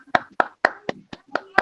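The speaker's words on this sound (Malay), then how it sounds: "berikan tepukan untuk Hanisah" Students in an online primary-school class clap for a classmate: about seven sharp, evenly spaced claps over a second and a half, close and moderately loud, with a faint voice underneath.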